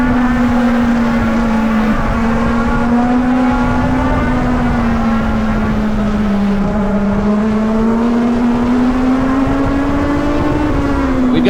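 A Legend race car engine howls at high, steady revs on the Charlotte Roval, loud and close from the cockpit, its pitch wavering slightly through shifts and corners for the whole stretch.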